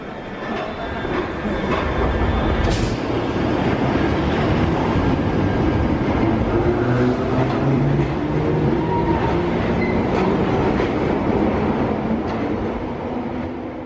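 A London Underground train runs on its tracks, a loud, continuous rumble with rolling wheel noise close by and a brief high squeal early on.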